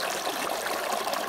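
Stream water flows over bedrock at an old gold mine site in North Georgia, a steady broadband rush with a light, bubbling texture throughout, fairly close and with no voices.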